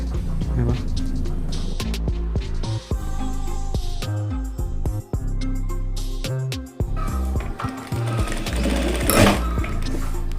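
Sewing machine stitching a double-folded pyjama hem, running in steady rapid bursts broken by short pauses, loud and close, with no talking.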